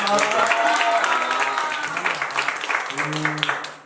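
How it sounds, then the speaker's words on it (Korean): Audience applause at a year-end party during a startup founder's talk, a dense burst of clapping heard under and between a man's ongoing speech, fading slightly toward the end. "자, 박수 한번 주시죠."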